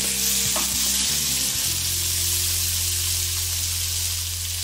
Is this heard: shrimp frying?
yes